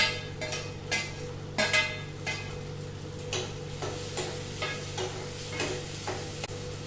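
Tomatoes and green chilies sautéing in a pan for black chole, with a constant hissing sizzle under rhythmic spoon scrapes and taps against the pan, close by and with no voice.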